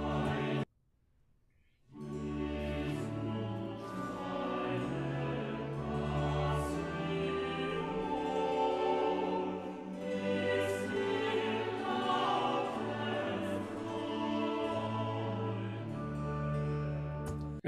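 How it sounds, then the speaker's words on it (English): Recording of the opening hymn line from Bach's St. John Passion, with choir and orchestra sounding full and steady after a moment of silence at the start, heard alone without talk. "Here then just is the opening line of the hymn again"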